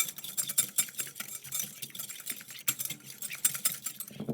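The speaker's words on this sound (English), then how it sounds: "Last yolk in the bowl, and give that a bit of a whisk." A whisk beats egg yolks in a bowl for a Victorian amber pudding, giving off rapid, light metallic clicks and taps in a busy, uneven rhythm at close range.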